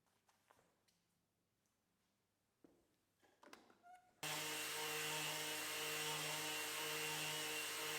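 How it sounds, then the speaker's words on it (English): A wooden panel clamped to a workshop workbench is machine-sanded: after a few quiet knocks and handling sounds, a loud, steady power-sander drone with a constant motor whine starts abruptly and runs without a break. "I attached the panel to the workbench and then started sanding"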